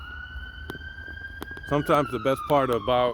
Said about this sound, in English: you see an ambulance.